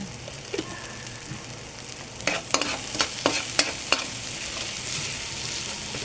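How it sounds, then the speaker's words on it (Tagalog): Garlic sizzles in hot oil in a pan, a constant frying hiss broken by a quick run of sharp scraping taps from stirring midway through. "Gisa na tayo ng bawang, bango."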